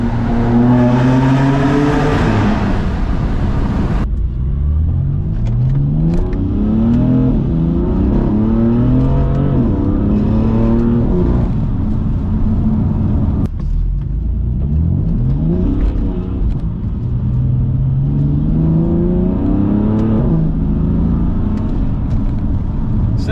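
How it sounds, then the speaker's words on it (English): Stage 2 tuned BMW F80 M3 twin-turbo with about 580 horsepower accelerating hard in wet weather, the engine climbing loudly through the revs in repeated rising sweeps with brief shift breaks, close and continuous throughout. "driving a twin turbo 580 horsepower Stage 2 car"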